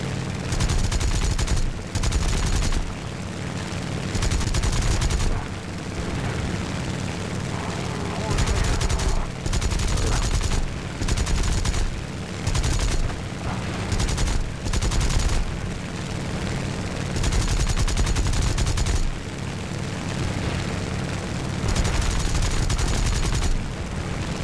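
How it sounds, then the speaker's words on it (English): Machine guns of an A6M3 Zero fighter firing in War Thunder realistic air combat: long loud bursts of rapid gunfire, stopping and restarting repeatedly over steady engine roar, with a voice talking now and then. "Just machine guns now"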